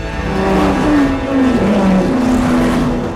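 A red race car from the film Ferrari roars past, its engine note a loud, steady drone that rises and dips with shifting revs, with no voices over it.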